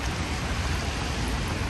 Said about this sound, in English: I was going to wait until it stopped raining, but I don't think that's gonna happen.